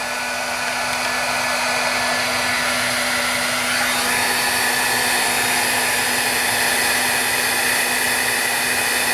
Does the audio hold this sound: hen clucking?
no